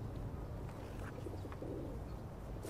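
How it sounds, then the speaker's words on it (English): Pigeons being fed in a park coo softly and faintly, a few low murmuring calls over quiet outdoor background noise. "Can you help me feed the birds?"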